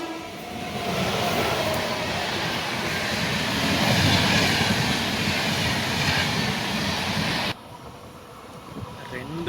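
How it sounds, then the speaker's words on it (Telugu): A passing train near Vadodara station sounds a long, loud horn over the heavy rumble and clatter of rolling rail cars, then the noise drops off abruptly toward the end. "లాంగ్ హారాలు కొట్టింది చూసారా."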